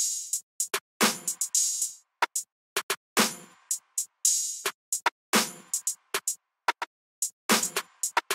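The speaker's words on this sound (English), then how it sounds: "I laid down this pretty simple open-hat pattern with the Rex Edit open-hat" An open hi-hat drum pattern built from a Rex Edit open-hat sample plays crisp, bright metallic hits in a syncopated rhythm, some short and some ringing longer, with clean silence between strikes.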